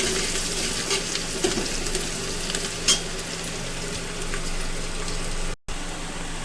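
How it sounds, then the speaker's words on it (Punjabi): Crushed green chillies fry in oil over browned onions, a dense continuous sizzle close by with a few faint stirring clicks and a brief dropout near the end. "ਮਿਰਚਾਂ ਹਰੀ ਕੁੱਟੀ ਦੀ ਇਹਨੂੰ ਵੀ ਤੇਲ ਦੇ ਵਿੱਚ ਹੀ ਫਰਾਈ ਕਰ ਲਾਂਗੇ"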